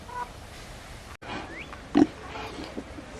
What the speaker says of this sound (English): here's the pig